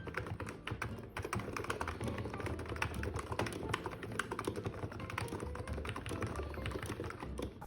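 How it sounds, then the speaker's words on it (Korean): Rapid, steady typing up close on an electrostatic capacitive keyboard (ABKO Hacker K965P V2), a continuous stream of soft, muted key thocks with no talking. "무접점 키보드의 타이핑 느낌을 잠깐만 다시 보도록 하겠습니다"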